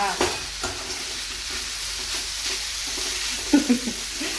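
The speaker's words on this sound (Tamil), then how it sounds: "பார்த்து பொறுமையாக கிண்டுங்க, இல்லைன்னா உடஞ்சி போயிடும்." A spoon stirs fish puttu, made from Kalinga murrel fish, in a frying pan. Soft scraping and a low sizzle run through the clip, with a few sharper knocks near the end.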